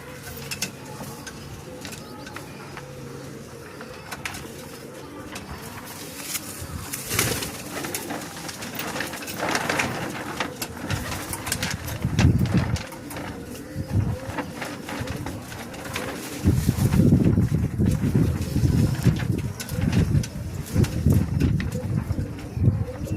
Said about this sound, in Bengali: এটা ধাড়ি পায়রা, পর কাটা আছে।